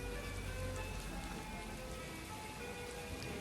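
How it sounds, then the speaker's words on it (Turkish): Steady rain pattering on a surface, a continuous even hiss with faint scattered drops and no voices, heard close but at low level. "Tekrar yağmur başladı."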